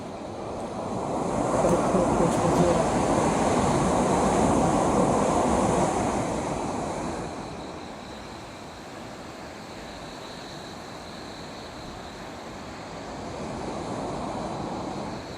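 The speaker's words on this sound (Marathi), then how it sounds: "इथं गंगा नदी वाहते" The Ganga river near Gangotri rushes past in a continuous broad watery roar, louder for the first half and then settling into a softer steady flow, with some wind mixed in.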